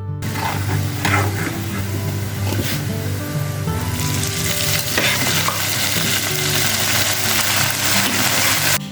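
Chopped onions and beef tripe sizzling loudly in hot oil in a pan, a continuous dense frying hiss with scraping and stirring noises throughout.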